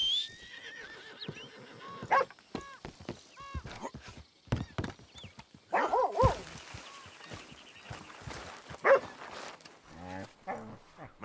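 A dog barks and whimpers in a Red Dead Redemption scene, mixed with a horse's whinny and clip-clopping hooves; voices speak between the sounds.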